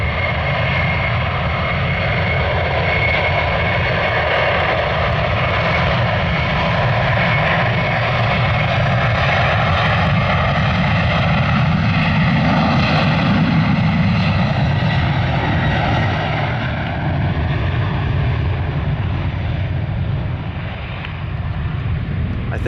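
Boeing airliner in a special 100-years livery taking off from RSW airport in the morning, a loud sustained jet engine roar that swells and slowly shifts in pitch as it climbs away, with faint talk underneath.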